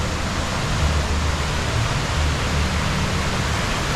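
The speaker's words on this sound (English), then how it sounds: "Because you have the waterfall right here." An outdoor fountain waterfall at a landmark monument in Indianapolis makes a steady, dense rushing roar of falling water, loud and unbroken throughout with no talk.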